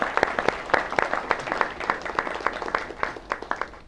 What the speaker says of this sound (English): A big round of applause for hosting us today